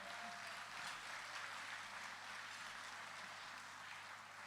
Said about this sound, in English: Please give Amanda a big round of applause